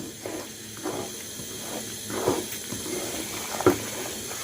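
Semolina for suji halwa roasting dry in a pan, a soft steady hiss with faint scraping swells as a spoon stirs it, close and quiet with no talk.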